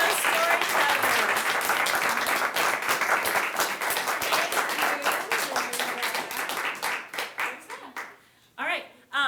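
A high school story slam crowd gives the storytellers a loud round of applause, dense clapping with cheers that thins out toward the end, where a few scattered claps and a voice remain.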